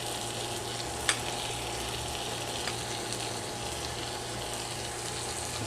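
Low carb lasagna sauce and meat mixture stirred in a pan with a soft spatula, a steady quiet sizzle with faint scraping and a couple of soft clicks, close and without talk.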